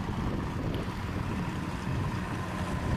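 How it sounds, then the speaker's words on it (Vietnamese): A small motorboat powers out of the Lagi fishing port as a towing skiff hauling fish and ice, its engine a steady rumbling drone under wind and water wash, fairly close and without voices. "cái xuồng này tại chạy rất là lực luôn"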